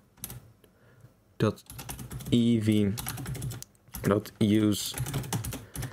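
Keys clatter on a computer keyboard as code is typed into Blender's Python console, quick irregular clicks close by, interrupted by someone talking.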